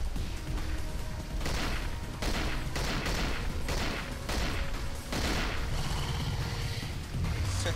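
Rapid gunfire aimed at the player in the survival horror game Cold Fear, a dense run of loud shots in bursts with brief gaps, continuing throughout without talk.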